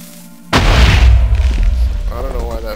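A TNT cannon fires in Minecraft with a sudden loud boom that rolls into a long rumbling explosion tail, fading gradually over a couple of seconds.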